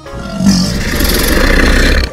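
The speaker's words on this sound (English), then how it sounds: "crocodile" A toy crocodile gives a continuous rough, growling roar that lasts about two seconds, loud and close, with no talk.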